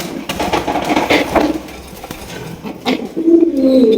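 Large king pigeons bathing near water give soft, low coos that come and go, with faint clinks and splashy rustles in between, heard fairly close in a quiet setting.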